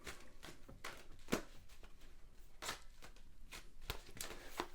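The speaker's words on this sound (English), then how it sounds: "So I'm going to shuffle your cards, and I'm going to be using my Tower of Prague deck" A Tower of Prague tarot deck being shuffled by hand, with a steady run of soft riffling bursts and card slaps, close and fairly quiet, no talking.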